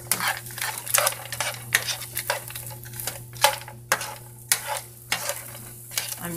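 Potatoes frying in canola oil in a hot pan, a steady sizzle broken by repeated scraping stirs of a utensil against the pan, close and clear with no talk.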